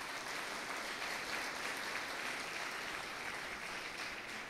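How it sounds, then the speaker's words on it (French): An audience at a graduation ceremony claps for an honoured laureate, and the applause spreads into a dense, even patter. It sounds fairly distant and soft, and it holds steady for the whole stretch with no voices over it. "Applaudissons-la, s'il vous plaît"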